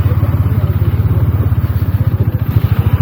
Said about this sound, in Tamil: வழுக்குது ப்ரோ வண்டி.